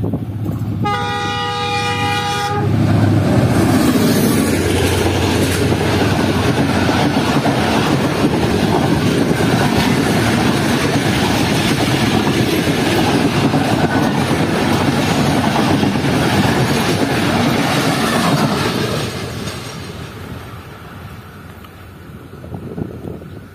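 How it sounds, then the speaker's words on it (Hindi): A Lahore–Karachi passenger train led by a ZCU30 locomotive speeds through Ran Pathani railway station. A short horn blast is followed by a loud, sustained roar and clatter of passing wagons that fades near the end. "काफ़ी अच्छी स्पीड में ट्रेन ने थ्रू पास किया है रन पठानी रेलवे स्टेशन को"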